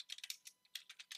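Fingers tap a computer keyboard in quick, irregular keystrokes, about a dozen crisp clicks close up in a quiet room.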